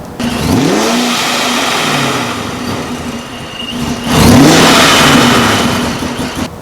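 Turbocharged Honda P1X engine revving hard, then easing off, with the big red blow-off valve releasing a sharp whistling hiss. Loud and close, no talking, with a second swell of revs toward the end.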